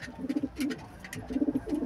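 Close, loud Rajshahi Giribaj pigeon coos on a pigeon farm come in two short bursts of rolling, throaty calls with a brief pause between.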